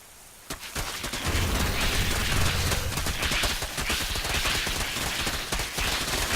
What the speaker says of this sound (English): Zerglings and roaches are working together to take down the destructible rocks